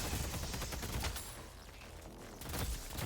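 Gunfire in the video game Deadlock comes as dense, rapid bursts of shots that fill the whole stretch, loud and busy, easing slightly in the middle before swelling again.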